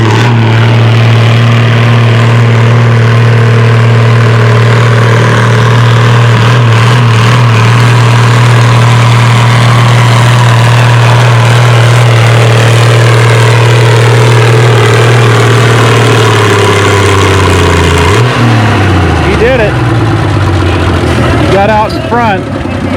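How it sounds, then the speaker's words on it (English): Tractor engine at a tractor pull event, a 4250 to 10,000 lb class, roaring loud and steady under a strong low drone, then bogging down and changing pitch near the end as the sled drags, with an announcer talking over it. "you could hear that engine pull down"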